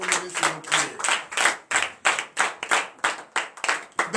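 A congregation at a morning prayer service in Benin claps together in a steady rhythm, with loud, evenly spaced bursts of hand claps close by for several seconds.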